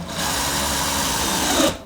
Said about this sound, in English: place the tip inside of the hole that you've already made and drill it in